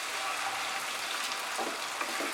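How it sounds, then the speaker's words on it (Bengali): Onion paste fries in a pan over medium heat for chicken korma, a soft, even sizzle with faint crackles, quiet and close without speech. "পেঁয়াজ বাটাটা দিয়ে এটাকে আরো 2 থেকে 3 মিনিট আমি ফ্রাই করব।"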